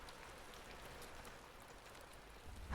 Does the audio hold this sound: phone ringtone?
no